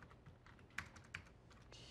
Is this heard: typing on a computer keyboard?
yes